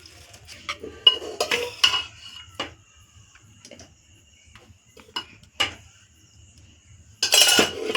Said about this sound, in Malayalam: പാത്രം എടുക്കട്ടെ, നമുക്ക് ഇതിനകത്തോടെ വെക്കാം